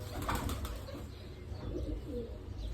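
Pigeons cooing softly on a perch, a low repeated murmuring with faint wingbeat-like flutters, moderately close in an otherwise quiet yard.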